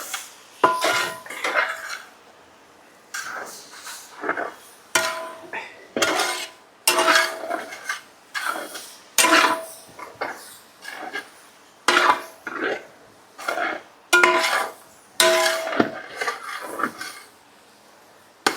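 A utensil stirs and turns wilted greens with salt in a pan at a restaurant kitchen, repeated clattering scrapes and knocks of metal against the pan in irregular bursts, close and fairly loud.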